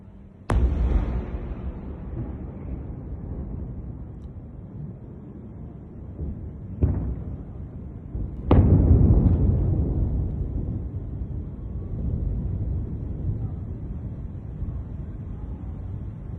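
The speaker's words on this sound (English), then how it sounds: "I just got another video here allegedly showing an explosion in Bahrain." Explosions in Bahrain caught in news footage: a sharp distant blast opens, then two more booms follow several seconds apart, each trailing into a long low rumble over wind noise.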